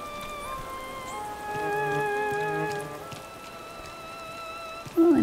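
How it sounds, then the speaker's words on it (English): Steady rain falling at night in the Animal Crossing video game, a soft continuous patter with faint game music tones layered over it and no talking. "We'll enjoy the rainy night sound as we kind of wander around"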